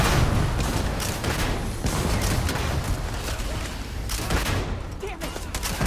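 Sustained, dense gunfire fills a firefight in the video game Starfield, with overlapping rapid shots and booms throughout, loud and continuous with no clear pauses.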